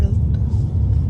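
Low, steady engine rumble from inside a passenger vehicle as it pulls away again, a continuous drone close by with voices talking over it.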